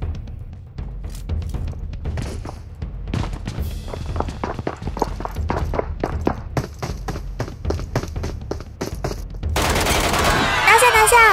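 Rapid, spread-out hip-fire bursts crackle from a shooter video game, dense sustained gunfire with thuds and movement, ending in a louder noisy burst near the close; a player talks over the action.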